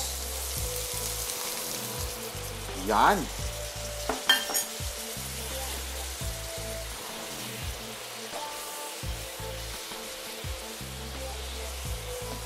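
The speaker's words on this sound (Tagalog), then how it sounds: "lagay na natin ngayon yung ating sauce" Sauce poured into a hot pan for Thai beef sizzles and fries steadily, a close crackling hiss with clinks of stirring, and a brief spoken word over it.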